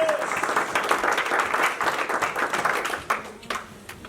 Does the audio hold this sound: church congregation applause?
yes